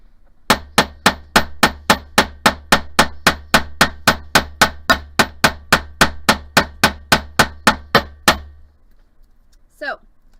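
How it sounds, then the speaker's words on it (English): Sharp, evenly spaced hammer blows on metal for hoop earrings, roughly three strikes per second, loud and close with ringing decays, stopping abruptly before a short trailing sound. "So I'm going to go back to hammering now that I put the head back on my hammer."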